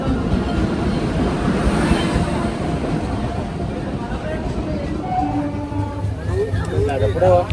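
A local train rumbles and clatters steadily along the tracks, with voices and crowd chatter mixed in.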